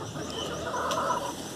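Chickens cluck in a steady, mid-level stream of soft calls over a rough background, with one brief higher squawk standing out near the middle.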